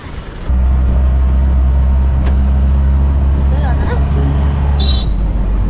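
Road traffic at Sangameshwar junction gives a loud, steady low rumble of engines with a brief high horn-like tone near the end, while a person talks over it.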